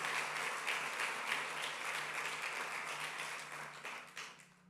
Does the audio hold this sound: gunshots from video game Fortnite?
no